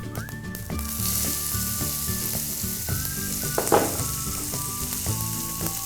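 Chopped onion fries in a pan while tomato bath is being cooked, with a loud, continuous sizzle and crackle and occasional stirring, over faint background tones.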